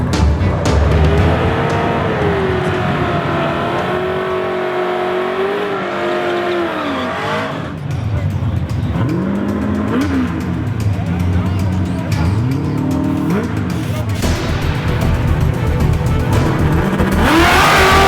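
Loud Ford Mustang engines roar and rev at close range during a street drag race in Virginia, pitch rising and falling as the cars accelerate hard, with a voice talking over the noise.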